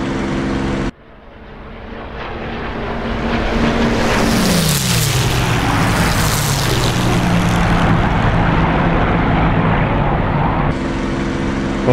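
A propeller aircraft's engine drones loudly and continuously in flight in the DCS World combat flight simulator, with the pitch sweeping downward midway as the engine note shifts, steady from start to end.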